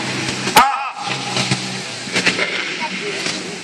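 A 1924 vintage car at a classic car gathering in Le Touquet starts and pulls away with a close, throaty engine roar and hiss. Voices sound around it.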